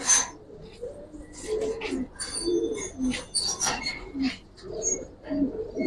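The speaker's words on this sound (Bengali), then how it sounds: "দুটা খয়রা গলা কবুতর" A pair of khoira-necked giribaz pigeons of the Palla line coo in a loft, their soft rolling calls repeating in rough pulses, close by with faint background noise.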